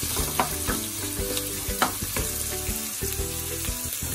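Onions fry in a pan while being stirred with a spatula, a steady close sizzle broken by frequent scraping and tapping strokes.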